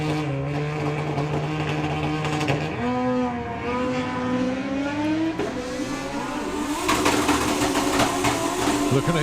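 Kawasaki and Ducati drag racing motorcycles at a drag strip event, engines revving and rising in pitch through gear changes before a louder full-throttle roar, with a commentator talking over them.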